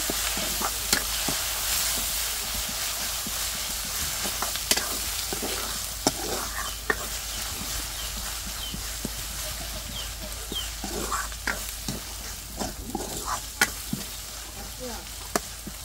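Steady sizzling of onion and ginger frying in a pan for egg bhuna, with scattered stirring scrapes and clicks throughout, fairly close and continuous.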